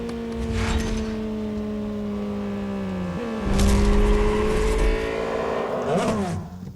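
Honda Integra Type-R race cars in the Real Racing 3 game roar steadily at high revs, engine pitch holding then dropping with a gear shift before climbing again, loud and continuous with faint tire and mechanical noise.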